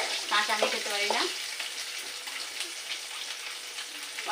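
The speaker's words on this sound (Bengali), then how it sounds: "আমি কিন্তু চিংড়ি মাছটা একটু ভালো করে ভাজা করে নিচ্ছি" Prawns frying in a pan for a ridge gourd and prawn dish, giving a steady hiss and sizzle that runs throughout, with a brief louder burst near the start.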